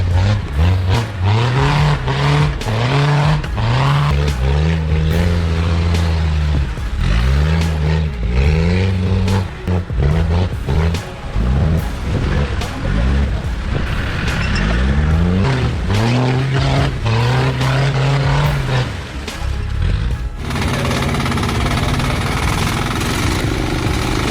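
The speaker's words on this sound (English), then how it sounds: "The roar of the engine, mixed with the sound of the tires scraping the ground in the rain" A heavily loaded timber truck's powerful engine roars and revs repeatedly on a muddy slope in pouring rain, rising and falling in pitch as it strains, loud and close throughout.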